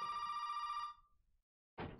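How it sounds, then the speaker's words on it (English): A telephone rings in the horror video game Resident Evil 7, one loud electronic ring lasting about a second that then stops, followed by a short burst of other noise after a brief silence. "Phone's ringing."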